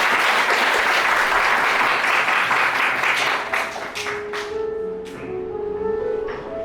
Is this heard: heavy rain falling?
no